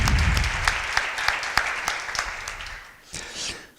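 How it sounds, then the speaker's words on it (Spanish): An audience claps for a talk at a PMI Andalucía chapter presentation event: a dense burst of applause that starts strong and gradually thins out to scattered claps. "me gustaría dedicarle un aplauso en especial a los 4 componentes."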